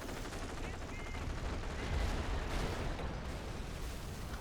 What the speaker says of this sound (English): Man, that's some pretty strong, pretty heavy incendiary barrage.